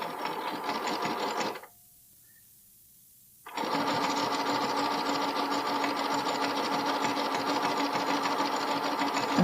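Sewing machine zigzag stitching elastic along the edge of a bralette: a fast, even mechanical whirr that stops for about two seconds, then resumes and runs steadily to the end, close and clear.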